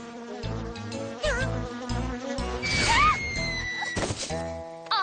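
A small cartoon bee buzzes in a wavering, rising and falling drone, heard over bouncy animated-show music with sound effects.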